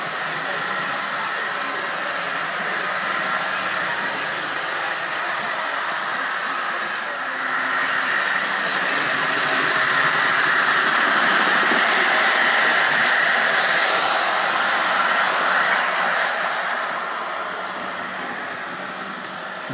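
N scale model train locomotives run at high speed around a layout, a continuous whirring and rattling of small motors and wheels on track that swells louder midway and then eases off, with no talking.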